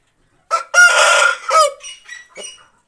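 A 3 Band Gadi breeder rooster crows once, loud and close, a rising call that trails off into a few softer clucks, with no other sound around it.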